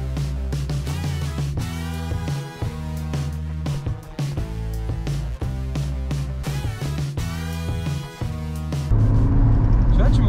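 Peugeot 306 1.6-litre cabriolet engine revving up at full throttle, loud and close, climbing through repeated rises with gear-change dips, and people talking over it.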